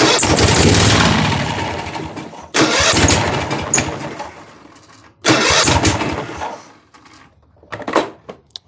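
A Cub Cadet lawn tractor engine cranking on the key, loud and close: sustained starter grinding in long bursts separated by short gaps, then fading to sputters and clicks.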